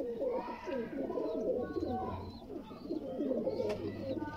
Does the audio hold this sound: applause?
no